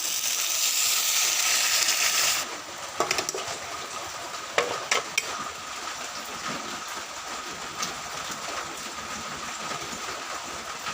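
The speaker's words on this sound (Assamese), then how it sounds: "এতিয়া গৰম পানী দিলোঁ" Hot water pours into a cooking pot with a loud, rushing, hissing wash for about two seconds. It then gives way to a softer, lingering simmer broken by a few small clanks, with no voices.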